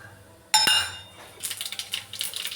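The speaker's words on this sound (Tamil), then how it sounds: "தாளிப்பு நல்லா பொரிஞ்சு வந்துடுச்சு" Mustard seeds, cumin, chana dal and dried chillies hit hot oil with a sharp hiss, then settle into a scattered crackling sputter, close and moderately loud.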